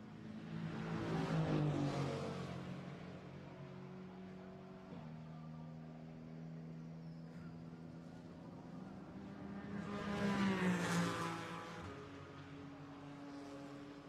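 A GT4 race car in qualifying at the Imola circuit, its engine droning at steady high revs, swelling as it passes near, fading, then rising again in a second loud pass, with no talk over it.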